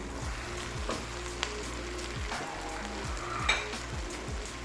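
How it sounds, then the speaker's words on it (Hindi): Pre-fried kababs tipped into a pan with tomato, giving a continuous close sizzle with a few soft scraping stirs and light clinks. "अब इसके अंदर ये कबाब डाल दूंगी जो मैंने फ्राई करके रखे हुए थे"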